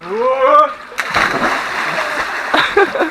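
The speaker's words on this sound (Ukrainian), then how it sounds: "В цьому відео ви побачите, як пригає в холодну воду Назар." A person jumps into cold water at an outdoor festival in Ukraine, making one loud, close splash followed by sloshing and a second smaller splash, after a brief shout beforehand.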